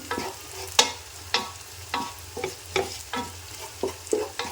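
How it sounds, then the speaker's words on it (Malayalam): Half a teaspoon of turmeric powder frying in a pan for a coconut-milk mutton roast, with repeated stirring scrapes and clinks over a low, steady sizzle. "ഒരു അര ടീസ്പൂൺ മഞ്ഞൾപ്പൊടി ഇട്ട് നന്നായിട്ടൊന്ന് മൂപ്പിച്ചെടുക്കാം"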